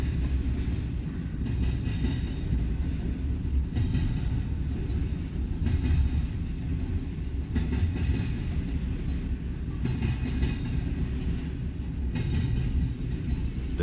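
An eastbound freight train rolls past at night in Fremont, Nebraska, a heavy steady rumble with repeated rhythmic clanks as the cars go by close and loud, lasting the whole stretch without speech.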